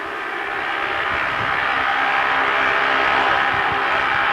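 An aircraft at the 1983 Great Leighs air show with its engine droning steadily and swelling gradually louder as it approaches, a continuous broad roar with no talk.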